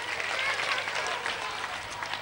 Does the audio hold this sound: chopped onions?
no